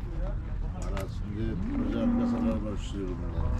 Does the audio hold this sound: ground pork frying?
no